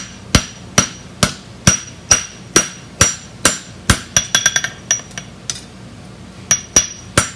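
Hammer blows ring out on hot steel while forging a hook, a steady series of sharp, bright strikes spaced about a third of a second apart, with a quick flurry of lighter taps midway and a pause before a final few hits.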